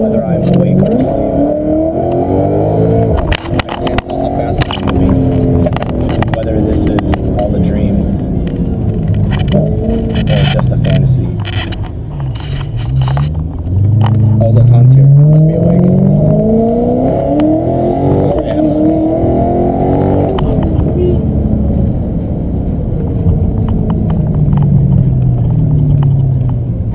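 A car drives along with its engine droning steadily, the pitch rising and falling as it speeds up and slows, with occasional sharp clicks and scrapes.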